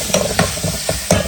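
Tadka of spices sizzling and frying in a pan, with a steady crackling hiss broken by several distinct stirring clinks and scrapes at an irregular rhythm, close by and with no talk.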